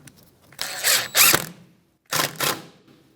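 A ratchet tightens bolts with a 10 mm socket on a bracket of a 2013-2018 Toyota RAV4 2.5L L4 during a rear CV axle job, in two close bursts of rapid clicking separated by a short pause.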